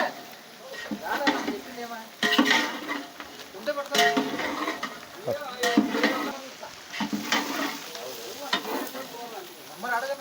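Okra fries in oil with a continuous sizzle, broken by repeated scraping and stirring strokes of a utensil against the pan, close up, while a voice talks over parts of it.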